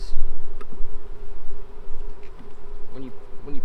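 Honey bees buzz steadily in an opened hive during a New Year's Day inspection, a close, continuous droning hum with a few brief scrapes and knocks over it.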